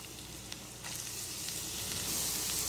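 Finely chopped ginger and garlic sauté in a pan with a soft, quiet sizzle that swells louder toward the end, with a few light stirring taps.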